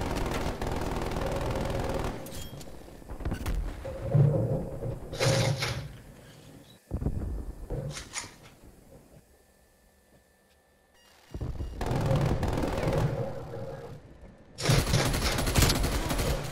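Automatic sentry gun fire in a Call of Duty Black Ops Cold War free-for-all match, with loud bursts coming in several separate stretches, broken by quieter gaps and a nearly silent pause midway.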